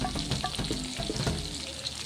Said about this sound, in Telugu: బాగా ఫ్రై అవుతాయి